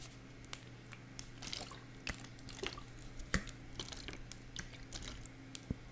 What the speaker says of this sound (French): Mais également une bouteille d'eau.